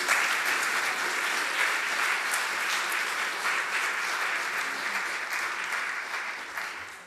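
A church congregation at a meeting claps steadily, with dense, even applause throughout that fades slightly toward the end.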